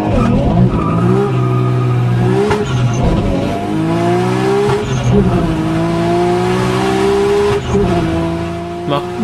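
A speeding car screeches its tires in long rising squeals and wavering engine revs, loud and close, with excited voices talking over it.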